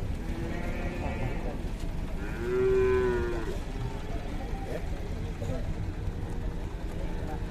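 Newly arrived cows moo in a busy farmyard, one long low call standing out among other animal sounds and background chatter.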